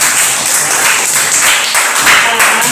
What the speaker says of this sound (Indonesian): Yuk kita tepuk tangan dulu yuk.